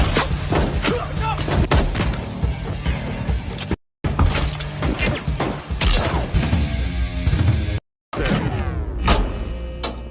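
Car window glass shattered by gunshots in an action film, loud repeated crashing bursts of breaking glass across several seconds, with brief silent breaks between bursts and debris tinkling afterward.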